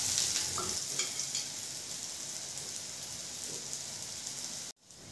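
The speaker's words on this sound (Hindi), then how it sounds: "पैन में तेल डालकर इसे सेलो फ्राई करना है।" Bread slices shallow-fry in hot oil in a pan, giving a dense, even crackle and hiss close by that goes on steadily and then cuts off abruptly near the end.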